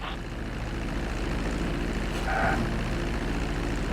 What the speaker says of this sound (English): reducing the plane's altitude gradually so you're just above the runway as you approach